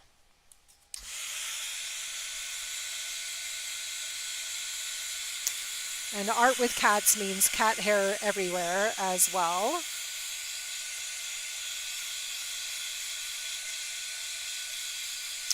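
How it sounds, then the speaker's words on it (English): A steady, loud blowing hiss of a small craft heat dryer drying oil pastel artwork runs almost throughout, while a person speaks briefly over it partway through. "I know you're going to go screaming off my lap when I turn the dryer on"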